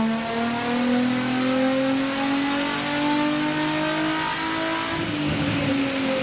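A Nissan 350Z engine revs on a dyno, a loud, steady climbing drone with rising pitch that peaks and drops off near the end, no voices.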